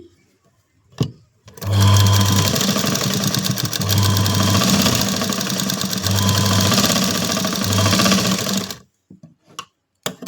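A sewing machine stitches a blouse in a steady, loud mechanical whir with a rapid needle rhythm, running continuously for about seven seconds with brief pauses in the motor drone, then stopping abruptly.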